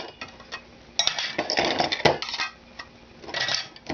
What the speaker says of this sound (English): So you put them in, one lid in each container.